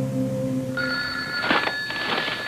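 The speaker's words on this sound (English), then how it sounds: "The phone." A telephone rings indoors in a late-1980s drama scene, with steady tonal ringing that shifts pitch partway through and repeats in short bursts, fairly close and clear with no talk over it.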